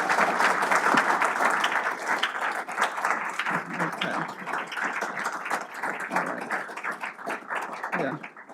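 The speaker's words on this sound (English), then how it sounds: "So I would like you all to give yourselves a round of applause yet again." Audience applause at an award ceremony, a full, continuous roar of many hands clapping close and loud, with crisp individual claps throughout and a brief voice near the end.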